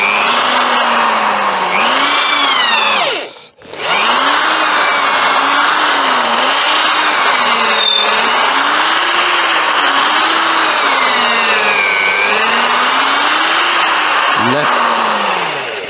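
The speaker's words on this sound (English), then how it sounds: "Let the drill bit do the work." An 8mm long drill bit bores steadily through a cross-grain turned wooden lamp, a continuous loud whine whose pitch wavers with the load, broken by one brief stop early on and a short dip near the end.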